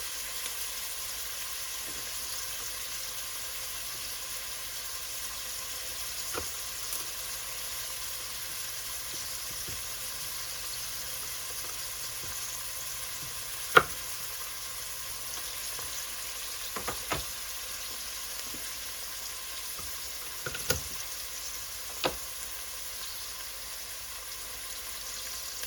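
Onions frying in a pan give a steady, soft sizzle throughout. Occasional sharp clinks and scrapes come from stirring as the onions slowly caramelize.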